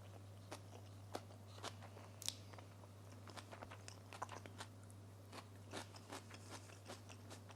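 A sushi roll topped with fish and a bit of wasabi is chewed up close, giving soft, irregular bites and squelchy mastication over a steady low hum, with a few sharper crunchy clicks scattered throughout.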